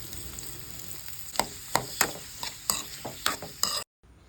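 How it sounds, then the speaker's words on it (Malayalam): Sliced onions frying in a pan for chicken biryani, a steady sizzle punctuated by regular close clinks and scrapes of a spoon stirring, ending abruptly. "ആ 8 ഉള്ളിയിൽ ഒരു 4 ഉള്ളിയോളം ഞാൻ വറുത്ത് വെക്കാൻ എടുക്കുന്നുണ്ട്"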